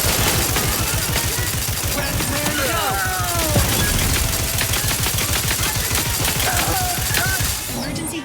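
Rapid gunfire from a weapon in the video game Outer Worlds 2, dense bursts of shots running continuously and loud, layered with game effects and chatter.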